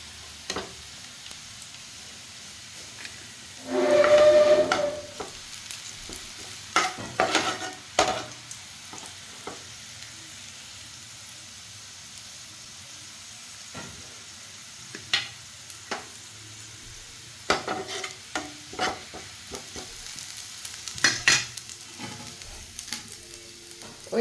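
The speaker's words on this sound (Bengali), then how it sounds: "চলো আমি বেরেস্তাটা ভেজে নিই" Onion slices for beresta frying in hot oil for paneer biryani, bursts of sizzling and stirring scrapes come and go, loudest in a thick burst early on, then scattered clatters over a quiet background.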